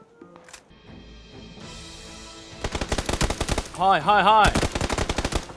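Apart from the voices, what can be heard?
M16 rifle gunfire in PUBG video game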